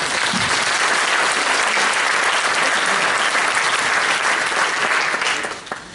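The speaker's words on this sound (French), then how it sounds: "Mais on peut déjà applaudir." A crowd at the Grand'Margot 2015 village festival bursts into loud, dense applause, a sustained wash of clapping from many hands that fades slightly at the end.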